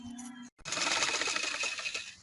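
Sewing machine running stitches along the edge of a pillow cover, a loud close continuous whirring rattle that starts after a short pause and carries on steadily to the end.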